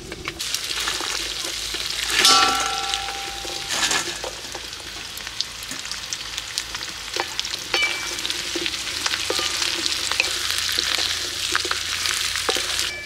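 Fried chicken pieces are tossed into a pan of green chillies frying in oil, a continuous loud sizzle with scattered clatters and scrapes of stirring, including a heavier burst early on.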